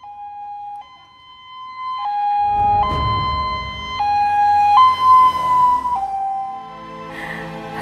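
An ambulance siren wails close and loud, its stepped two-tone pitch changing every second or so, while a rumbling motor vehicle passes beneath it.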